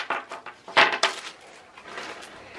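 A set of toy blocks handled on a tabletop, giving a quick run of light wooden knocks and clatters, fairly close and moderately loud, then a softer rustle toward the end.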